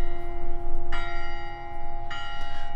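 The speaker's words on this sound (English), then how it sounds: "I have not heard that bell ring" A church bell in Detroit tolls twice about a second apart, each loud stroke blooming into a sustained humming ring that carries on between and after the strikes.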